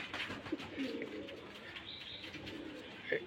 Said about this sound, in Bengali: এই দুটো এক জোড়া কবুতর।